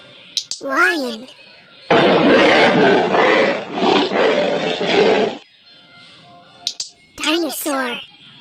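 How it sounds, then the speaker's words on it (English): A lion gives one long, loud, rumbling roar lasting several seconds at close range, bracketed by short animal cries before and after. "Lion."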